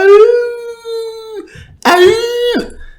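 A person imitates a howl with two drawn-out, loud vocal wails, the first long and steady and the second rising and then falling, with a short gap between them.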